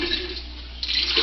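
Water pours and splashes steadily for homemade wine, a continuous hiss that swells louder near the end, with a faint voice underneath.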